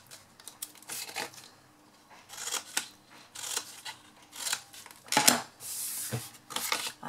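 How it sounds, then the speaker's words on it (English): Scissors snip wedges out of the corners of a piece of card during handmade card making, a series of short, close, crisp cutting sounds in irregular bursts with quiet pauses between them. "we just need to cut some wedges out of the corners of this one"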